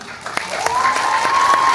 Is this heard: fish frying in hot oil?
no